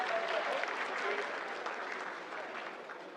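Steady applause fills the mission control room during the Chandrayaan-3 moon landing, a continuous moderate wash of many hands clapping at an even level throughout.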